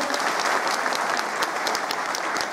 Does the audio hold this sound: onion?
no